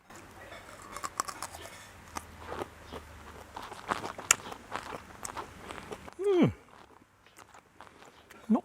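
Crunchy pickled potatoes bitten and chewed up close, a run of irregular crisp crunches and clicks, with a brief vocal sound near the end.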